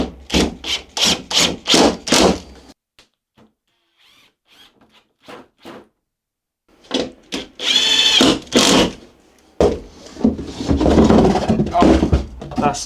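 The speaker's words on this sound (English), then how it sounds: "To attach this, I've got some 3x30 wood screws that I'm going to get put in place around the perimeter." Wood screws, 3x30, are driven into a portable folding table with a drill in bursts of whirring and grinding, with pauses between screws and a louder, sustained run near the end.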